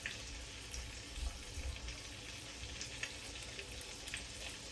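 Steady, close sizzling of black-eyed peas frying in a pan, with a constant crackling hiss and small pops.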